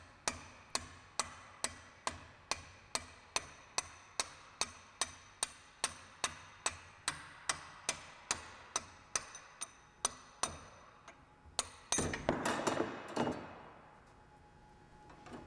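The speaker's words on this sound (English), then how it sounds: "Remove the anchor pins with a soft punch." A hammer strikes a soft metal punch driving out brake anchor pins on a MAN rear axle, a steady run of sharp blows, about two per second, followed by a rattle of metal parts.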